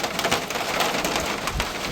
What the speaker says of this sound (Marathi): हा आहे पाऊस.